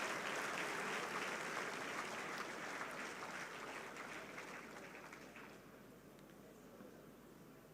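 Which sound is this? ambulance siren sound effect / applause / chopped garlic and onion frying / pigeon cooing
applause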